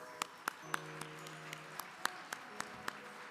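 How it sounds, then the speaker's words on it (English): Faint, scattered claps from an audience honoring award recipients at a Utah business gala, about a dozen sharp, evenly spaced hand claps over a low steady hum rather than a full ovation. "let's give them all one round of applause"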